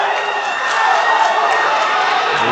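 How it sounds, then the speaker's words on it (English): Crowd noise from the audience at a classic men's powerlifting championship: a steady, broad roar of cheering and shouting, fairly loud and continuous throughout, with no distinct claps standing out. "You can hear the crowd."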